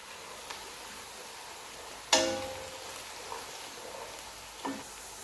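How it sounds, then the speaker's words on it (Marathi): Onions fry in a pan for chicken gravy masala, a steady, close hiss of sizzling broken by a sharp metallic clink and a few soft stirring knocks. "आता आपण कांदा टाकलेला आहे आणि कांद्याचा कलर चेंज होईपर्यंत आपण त्याला शिजून घ्यायचं आहे"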